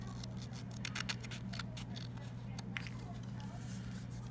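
Scissors make soft, repeated snips as they fussy-cut a paper butterfly, a series of quiet clicks over a low background hum, close and faint.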